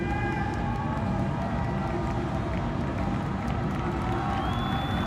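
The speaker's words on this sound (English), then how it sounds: "Crowd doing their best to support the athletes." Crowd in the stands at an ASEAN Para Games track race, cheering and roaring in a continuous broad wash of noise with scattered shouts, heard at a distance throughout.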